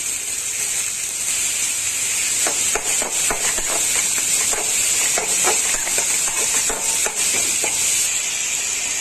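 Finely chopped large onions fry in a pan for prawn gravy with a steady loud hiss and sizzle, broken by repeated close scraping strokes of a stirring spoon, no talk.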